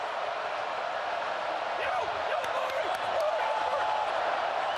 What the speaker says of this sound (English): Crowd rises up on a 2nd down and 10.